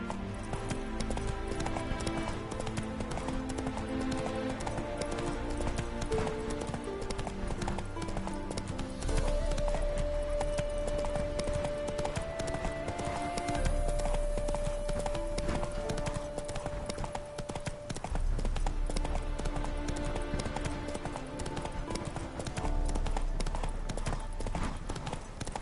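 Hooves of Geralt's horse Roach in The Witcher 3 clip-clop in a steady rhythm throughout, under a continuous orchestral music score, with a faint neigh possible.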